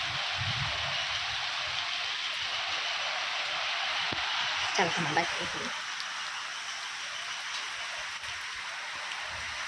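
Steady rain hisses throughout, a dense broadband wash, while someone speaks briefly over it near the middle.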